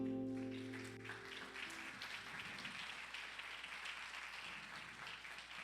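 An audience breaks into applause as a sustained tone fades, the clapping spreading into a steady, fairly distant patter.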